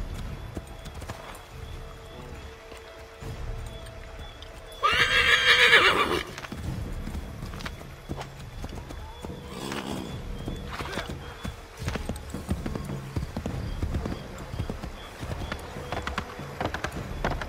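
A horse in the Assassin's Creed 3 game gives a loud whinny partway through, surrounded by steady clip-clop of hooves and soft ambient game sound, with no talk heard.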